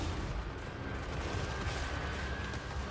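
A dense, continuous roar of massed gunfire and artillery from a Warhammer 3 battle, with Empire handgunners and guns firing on Skaven slaves. The crackling din stays steady and somewhat distant throughout, with no voices.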